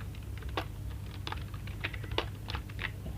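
Computer keyboard keys clatter in irregular bursts of clicks, close and moderately loud over a low steady hum, with no voices.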